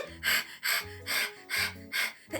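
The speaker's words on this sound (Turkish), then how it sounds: "Nefes nefese kalmışsın." Heavy, rhythmic panting of someone out of breath, five loud gasping breaths in quick succession, close to the microphone.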